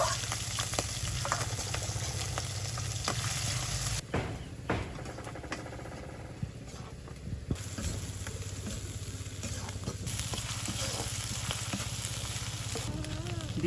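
Ichha fish (small shrimp) frying in oil with chopped onion and garlic, giving a steady close sizzle that runs throughout, with brief stirring clatters and a quieter dip midway.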